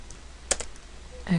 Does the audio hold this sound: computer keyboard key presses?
yes